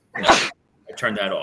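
A single short sneeze bursts out at close range, followed after a pause by someone speaking.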